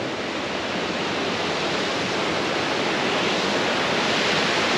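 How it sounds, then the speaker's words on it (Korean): A mountain waterfall on a Sobaeksan hiking trail roars in a constant, dense rush of falling water, loud and close, with no voices over it. "바로 물이 흘러가면서 이렇게 속도를 형성해서 떨어지고 있습니다. 양양 폭포입니다."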